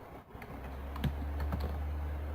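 Quiet clicks of typing on a computer keyboard, a few separate keystrokes over a low steady background hum, close by and with no talking.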